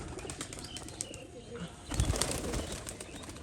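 Domestic pigeons shuffle nearby with a burst of wing flapping around the middle and faint, low cooing, all fairly quiet against a soft outdoor background.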